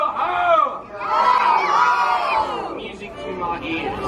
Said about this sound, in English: Everyone scream yo-ho!